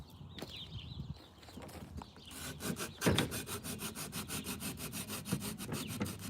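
A metal file wrapped in sandpaper rubs back and forth in a tight spot on van conversion woodwork, making a steady rhythmic rasping that grows stronger and more even midway through.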